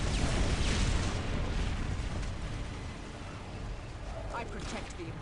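Grenade blast in Dawn of War: Ultimate Apocalypse, Imperial Guard against Orks, a heavy boom that rolls out into a long rumble, with a voice talking faintly near the end.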